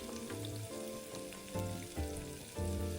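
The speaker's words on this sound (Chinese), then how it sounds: "定型后翻面继续油炸。" Anchovy fritters deep-fry in oil over medium-low heat after being flipped, giving a continuous bubbling sizzle with irregular crackling pops. The sound is moderately close and stays steady throughout, with no voices.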